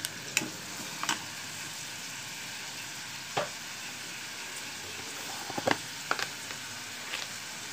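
Chillies fry with salt in an oiled pan for an egg and potato curry, giving a steady close sizzling hiss. A spatula scrapes and taps the pan now and then, and no one speaks.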